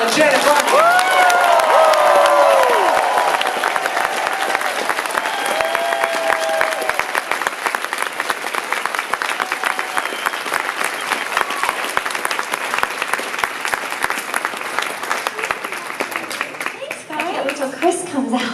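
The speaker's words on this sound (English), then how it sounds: "I need you to go to a total 10 with your clapping and cheering" Comic convention panel audience applauding and cheering loudly and continuously, dense clapping with whoops near the start and voices over the crowd noise.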